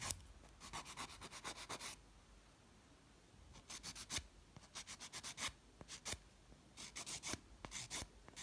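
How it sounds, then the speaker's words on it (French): A nail file rasps across poly gel nails in short, quick one-directional strokes, close and fairly soft, coming in bursts separated by brief pauses. "Essayez de limer toujours dans un sens."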